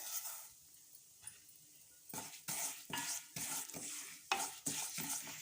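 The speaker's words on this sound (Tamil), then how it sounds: "எள்ளு நல்லா பொரிஞ்சிருச்சுங்க" White sesame seeds crackle and pop in hot oil in a pan, starting with a faint low sizzle, then a dense run of sharp bursts alongside scraping stirs from a utensil.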